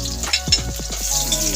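Garlic fried in a pan for ginataang labong crackles loudly for a moment, with a short burst of stirring scrapes and strong sizzle, and no voice.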